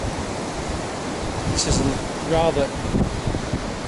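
Ocean waves rolling onto a sandy beach with dunes on an afternoon walk, a steady surf roar mixed with wind buffeting the microphone, while a person briefly speaks and a short bird-like chirp rises over it.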